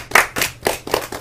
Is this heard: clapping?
yes